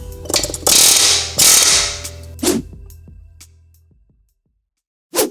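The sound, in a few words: air impact gun removing wheel hub on Mercedes W212 E63 AMG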